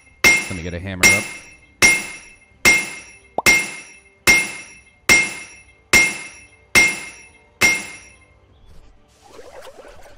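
A mallet strikes metal in My Little Blacksmith Shop, about ten sharp ringing blows at an even, unhurried rhythm, each with a bright metallic ring that fades before the next.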